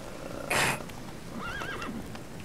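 Roach, the horse in The Witcher video game, gives a short bright snort and then a rising and falling whinny over faint hoofbeats and quiet ambience.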